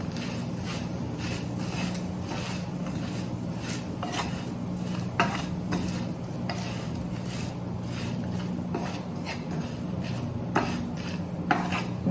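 Potatoes and salt being stirred in a pan for a no-onion, no-garlic sour potato dish, a steady background hiss with repeated scraping and clinking of a spoon against the pan.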